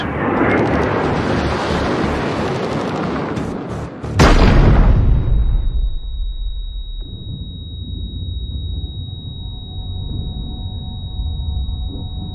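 A roaring wash of Skyhawk jet noise and rapid shipboard gunfire gives way to a sudden heavy blast, then a low rumbling aftermath with a thin steady tone.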